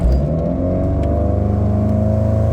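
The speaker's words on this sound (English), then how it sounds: "from a dead stop, full throttle." A 1991 Sea Ray boat engine, freshly tuned with a rebuilt carburetor, accelerating from a dead stop at full throttle: a loud, close, steady rising roar with a strong low drone.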